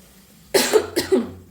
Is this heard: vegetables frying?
no